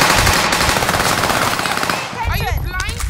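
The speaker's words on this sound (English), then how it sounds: "He shot me." Rapid automatic gunfire in the Warzone video game rattles loud and dense in a continuous burst, with a few brief chirping game sounds near the end.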